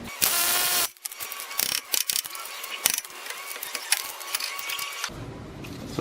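Hand ratchet turning a 24mm nut off a Jeep Cherokee suspension bolt during ball joint and wheel bearing work: a close, steady run of quick metallic clicks after a brief louder burst, alone without talk.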